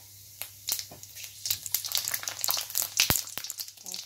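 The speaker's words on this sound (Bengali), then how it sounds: "তেলটা এই যে গরম হয়ে গেলে প্রথমে সাদা জিরা, তারপরে যে গোটা গরম মশলা" Cumin seeds and whole garam masala hitting hot oil, setting off a steady crackling sizzle with sharp pops close up, and no talking.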